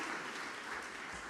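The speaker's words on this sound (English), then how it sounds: "please stand and look at the public because we want to clap at you" Conference audience applauds the organizers seated in the front row at an opening welcome, a brief, soft, even patter of many hands clapping.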